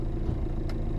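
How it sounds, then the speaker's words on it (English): A low, steady rumble like the inside of a moving car, from the horror video game Palmyra Orphanage. It holds even and continuous throughout with no talking. "Sounds like I'm in a car."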